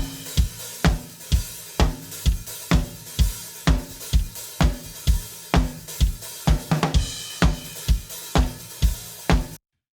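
Unprocessed drum kit recorded in a church, a steady groove of kick, snare and cymbal hits with a roomy ring, even and moderately loud throughout with no talking.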